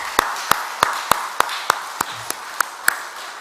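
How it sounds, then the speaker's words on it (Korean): A church congregation at an early-morning weekday service claps in a steady, even rhythm, about ten sharp hand claps roughly a third of a second apart, heard fairly close with little else around them. "하나님께 영광의 박수를 한번 돌릴까요?"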